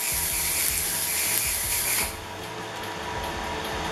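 Welding machine running steadily while welding the arms of a homemade grappling hook, a continuous hissing, crackling buzz with a sharp drop in intensity partway through, close and loud, no talking.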